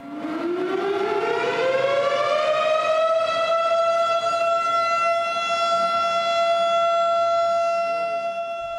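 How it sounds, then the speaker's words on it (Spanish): A long rising siren marking the start of Shabbat wails steadily across a Hasidic neighborhood in New York, climbing in pitch then holding a sustained tone, loud and carrying across open space, with no voices. "es una sirena que significa que el Shabbat ha comenzado y se puede oír en todo el barrio absolutamente"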